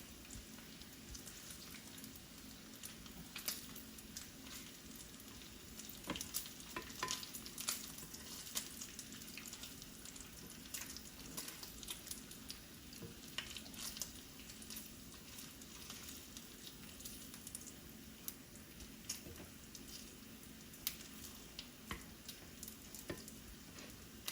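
Bacon sizzles and spatters steadily in a pan, a dense crackling hiss with scattered sharp pops, continuous and fairly quiet with no talking.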